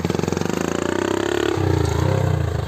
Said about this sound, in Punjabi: ਪੈਟਰੋਲ ਤੇ ਟਰੈਕਟਰ ਤਿਆਰ ਕੀਤਾ ਸਪਲੈਂਡਰ ਦਾ ਇਹਦੇ ਵਿੱਚ ਇੰਜਨ ਹੈ